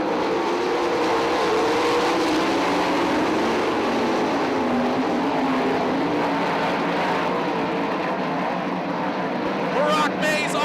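410 sprint cars race at Attica Raceway Park in Attica, Ohio, a steady, loud engine roar filling the track under continuous commentary.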